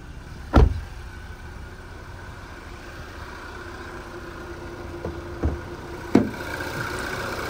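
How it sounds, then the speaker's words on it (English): A 2019 Hyundai Tucson Active X engine idles with the bonnet open, a low steady hum ticking over evenly, broken by a few sharp clunks or knocks from nearby handling. "as we listen to it run, just make sure there's no major knocks, rattles or squeals. Just that motor ticking over nicely."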